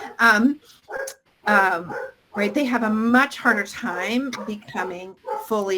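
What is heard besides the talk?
dog barking indoors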